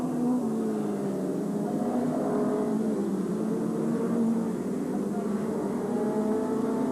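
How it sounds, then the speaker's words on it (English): F2 stock cars race around Skegness Stadium in 1984, their engines blending into a continuous loud drone with shifting revs, while a commentator talks over the noise. "there is Ian King now going through on the inside of 501, the yellow top car."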